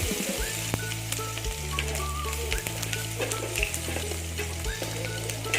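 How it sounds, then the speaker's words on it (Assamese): Panch phoron spices and onion sizzle steadily in hot oil for an egg curry, a continuous close crackle with occasional stirring and a low steady hum underneath; no talking. "এই তেলতে এতিয়া অলপমান পাঁচফোৰণ দি দিছোঁ আৰু পিঁয়াজ দি দিছোঁ।"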